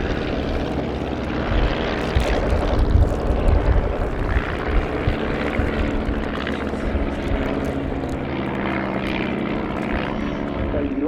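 Replica WWI two-seat monoplane ground attack aircraft flying in an air display, its propeller engine droning steadily and fairly loud throughout, with a rougher surge early on as it passes.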